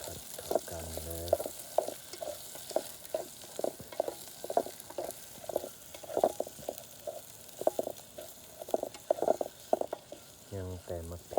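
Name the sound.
stir-frying food in a pan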